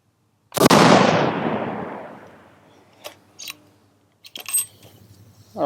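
A single loud rifle shot fired during accuracy practice cracks sharply and then decays over about a second and a half. Fainter clicks and handling noises follow, with no talking.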